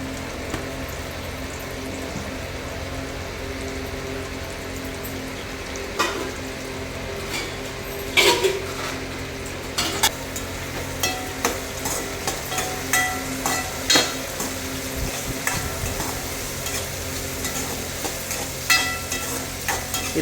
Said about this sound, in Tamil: லைட்டாக மஞ்சள்தூள் போட்டு வதக்கிக்கலாம்.